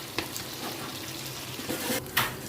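Continuous crackling sizzle of onion, tomato and green chillies frying in oil, with a few faint scrapes and taps of a spoon against the pan.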